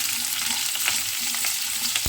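Kohlrabi dropped into hot oil over tempered spices crackles and sizzles densely and steadily, close up, with small popping bursts and no talking.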